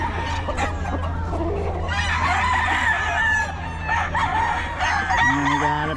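A farm rooster crows loudly and close, with repeated drawn-out calls over a steady low background hum, joined by other fowl clucking nearby.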